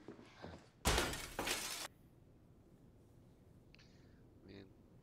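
Glass shatters loudly in two quick bursts of breaking and crashing, followed by quiet background noise and a faint voice later.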